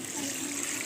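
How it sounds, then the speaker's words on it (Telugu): Water pours steadily into a large pot for a 5 kg vegetable biryani, a constant hissing splash that keeps an even level throughout and is heard alone. "మేమైతే 5 కేజీల బిర్యానీకి 16 నోటాలు నీళ్ళు వేసుకుంటున్నాము"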